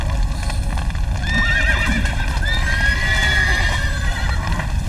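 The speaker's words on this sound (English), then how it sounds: "the horse is freaking out" A horse in The Witcher 3 video game neighs and whinnies in several rising and falling calls over a constant, heavy low rumble of hooves and game ambience, fairly loud and close.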